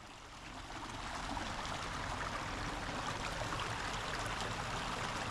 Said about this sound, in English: See if I can't get some more waterfall noises here.